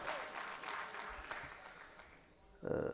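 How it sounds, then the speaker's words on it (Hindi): A poetry-recital audience claps steadily at a moderate distance, the applause fading somewhat, then a brief louder burst of sound near the end. "जोरदार तालियों से इस्तकबाल करें"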